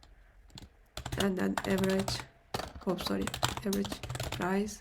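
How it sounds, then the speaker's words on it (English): Clacking of a noisy computer keyboard, rapid key clicks running under someone speaking steadily, typing close to the microphone. "Also, sorry for my keyboard noise."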